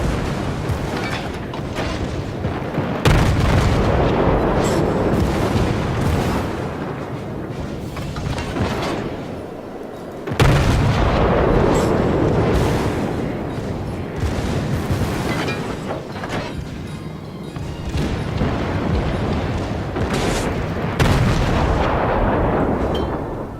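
Naval guns aboard the Japanese training cruiser Katori in World of Warships fire armor-piercing shells. Heavy booming salvos roll and rumble over a constant loud engine and sea drone, with big blasts near 3 and 10.5 seconds.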